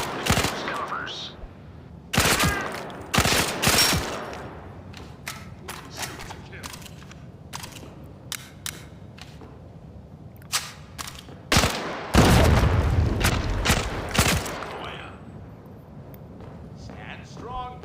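Target shooting in the VR game Zero Caliber: Reloaded, with loud, sharp gunshots and short automatic bursts at irregular intervals, some spaced apart and others in clusters. Someone talks throughout between and under the shots.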